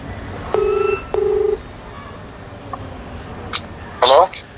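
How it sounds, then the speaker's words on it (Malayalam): A telephone rings on a call: two short, steady electronic ring tones in quick succession, followed by a quiet stretch with faint background noise and a brief chirpy sound at the end. "ഇപ്പൊ ഫോൺ അടിക്കുകയും ചെയ്യും വിളിച്ചാ"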